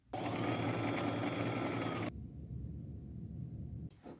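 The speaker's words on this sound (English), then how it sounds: "I will use a small zigzag stitch when I sew" A sewing machine runs a small zigzag stitch in purple thread, whirring loud and steady for about two seconds before dropping to a lower, quieter hum and a brief final burst.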